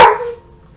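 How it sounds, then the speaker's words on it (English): A single loud, close bark from a pet dog, sharp at the onset and quickly fading out, with no talking. "that's my dog"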